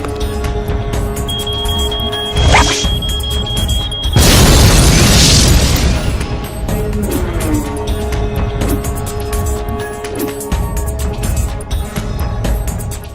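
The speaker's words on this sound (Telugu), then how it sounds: "బాంబును తయారు చేసి టెస్ట్ చేశాం." A loud bomb test explosion in a movie scene bursts out suddenly as a single heavy boom, then a rumbling, crackling tail fades beneath a steady soundtrack.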